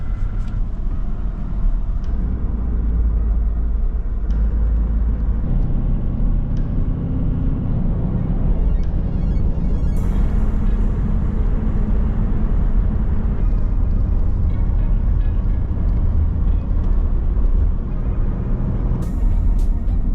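A car drives out of Port Douglas along a country road, giving a steady low engine and road rumble with tyre noise throughout, close and continuous, with no talk.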